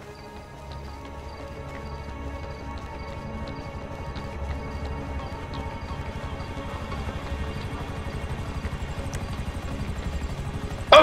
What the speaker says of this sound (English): A helicopter has been dispatched to your area.